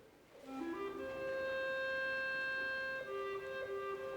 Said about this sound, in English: one clarinet is playing in one key,